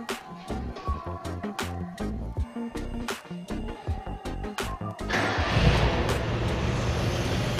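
Car with its brake booster disconnected, engine idling with a low rumble under a series of sharp knocks and clicks, then a louder rushing, hissing noise as the brake is pressed.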